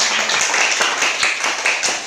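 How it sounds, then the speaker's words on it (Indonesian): Classroom clapping in an Indonesian school as a second student group steps up, a brisk, fairly loud run of many overlapping hand claps with a steady rhythm and no talk on top. "Tepuk tangan untuk kelompok 2"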